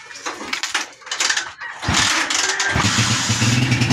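A motorcycle with an electrical fault is cranked in a few short bursts, then catches and settles into a loud, close, rattling idle.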